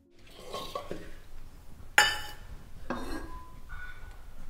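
Dishes handled and arranged in a home kitchen: soft clatter of crockery, then one sharp bright clink followed by scattered lighter knocks and rattles, close by with no talking.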